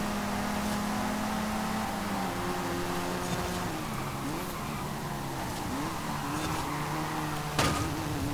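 A small turbocharged car engine in Forza Horizon 5 drones steadily and rises in pitch as it revs toward 7,000 RPM, with gear changes and a brief squeal near the end.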